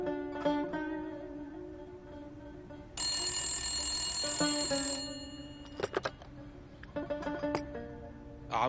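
An old-style telephone rings in a house with a repeating electric bell tone in bursts, a steady ring followed by a shrill higher ring partway through, fairly quiet with no talk.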